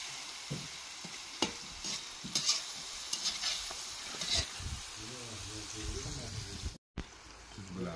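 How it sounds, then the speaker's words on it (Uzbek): Food frying in a pan with a steady close sizzle, punctuated by stirring scrapes and clatters; a short dropout near the end, with voices briefly heard. "Sarsini chiroyli qilib qovurib olamiz"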